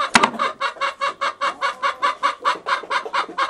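A hen clucks in a quick, steady rhythm of short, repeated calls, fairly close, after a brief sharper note at the start.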